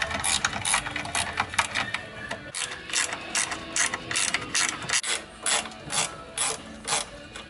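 A ratchet wrench fitted with a 27 mm socket loosens gearbox mount bolts on a 1973 Volkswagen Fusca, giving steady repeated clicking strokes in an even rhythm. The sound is close and fairly loud, with no talking.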